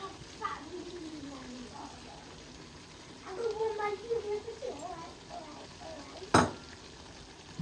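Panch phoron spices fry in oil for a jujube pickle, making a faint, soft sizzle with occasional stirring clinks, partly under a woman's speech.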